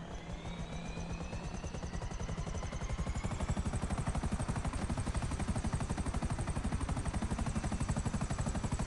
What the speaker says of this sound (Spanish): Me veo en el helicóptero, ¿sabes?